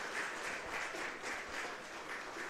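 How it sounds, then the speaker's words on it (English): Baseball crowd at a Hamilton Cardinals vs London Majors game makes a steady, faint wash of distant cheering and scattered clapping, with no voices standing out. "Fans trying to cheer along with Payano here."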